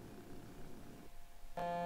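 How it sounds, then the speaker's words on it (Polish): In the Watch Dogs video game, a phone rings and a short electronic tone bursts in near the end, clear over a low background hum with no speech. "O, jeszcze odbierzemy telefon."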